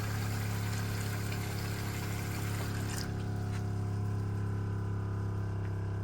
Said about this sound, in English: Oh, there's the pump.